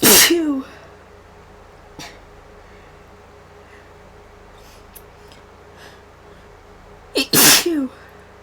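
Sneezes from someone with flower-triggered allergies: one loud sneeze at the start, a faint one near two seconds, then a strong double sneeze near the end, with quiet breathing and room hush between.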